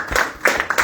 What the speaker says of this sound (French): Applaudissez, on applaudit.